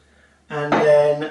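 Water pours into a mixer bowl already holding flour, instant yeast and salt for a herb fougasse dough, a short close splashing stream that starts abruptly and grows fuller, with no talk over it.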